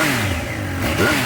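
Triumph Speed Triple 1200 RR motorcycle on its stock exhaust and stock catalytic converter, idling with a steady mid-pitched engine rumble close up and a brief blip of revs near the end.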